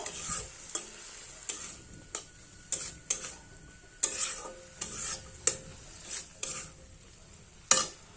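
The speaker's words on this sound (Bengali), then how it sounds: "এবার ভালো করে মিশিয়ে আবার চাপা দিয়ে রেখে দেব" Spices with a little water being stirred in a pan, with repeated close clinks and scrapes of the spoon at an uneven rhythm over a faint, soft sizzle and no talking.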